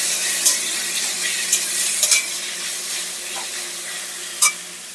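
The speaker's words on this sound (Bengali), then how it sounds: "এবার একসাথে খুব ভালো করে এটাকে নেড়ে চেড়ে ভাজা ভাজা করে নেব।" Vegetables seasoned with salt and turmeric stir-fry in a pan with a constant close sizzle, broken by a few quick scraping clicks of a spatula.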